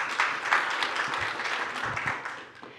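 An audience claps at a Wednesday church talk, a brief, dense round of applause that holds steady and then tapers off over about three seconds.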